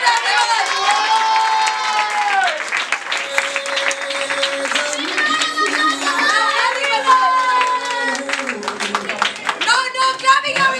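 An audience at a felicitation celebration claps and cheers, with excited children's shouts and overlapping voices riding on top of the clapping, loud and close for the full length.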